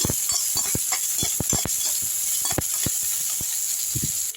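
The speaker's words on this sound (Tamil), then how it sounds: "உடனே வெங்காயம் போட்டுங்க கருகிடாமல் நல்லா வதக்கி விட்டுக்கலாம்" Onions sautéing in hot oil for a South Indian okra and beetroot meal, a loud, continuous sizzling hiss with scattered crackles and pops, close up and steady throughout, with no talk.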